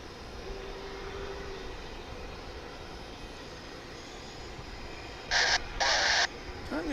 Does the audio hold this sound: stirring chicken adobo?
no